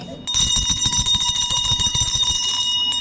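A loud electric bell rings continuously for about three seconds during an outdoor camp team game in Xuyên Mộc, Bà Rịa, Vietnam, a harsh, rapid metallic rattle that stops abruptly.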